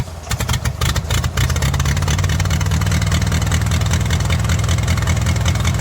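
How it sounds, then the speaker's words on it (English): An old International crawler tractor engine runs loud and steady nearby, with a rough, continuous rumble after a brief uneven start, and no talking over it. "I thought I'd just show you a video of this old International crawler I've got. Just me trying to start the thing up"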